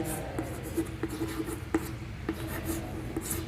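A pen scratches steadily across paper or a board, writing out notes on Euclid's division algorithm in a quiet room, with light rubbing strokes and small taps and no speech.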